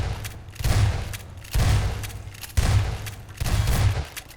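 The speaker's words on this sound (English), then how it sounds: "Somebody shot me!" Gunshots in a Prop Hunt video game, four heavy booming bursts roughly a second apart, each a rumbling volley of shots, loud and close with no talking over them.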